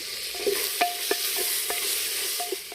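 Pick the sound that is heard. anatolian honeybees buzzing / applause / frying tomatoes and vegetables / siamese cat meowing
frying tomatoes and vegetables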